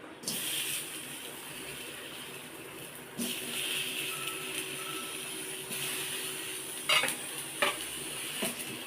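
Coconut sizzles steadily as it roasts in a hot pan, with occasional scraping stirs and clinks of a utensil, no voices.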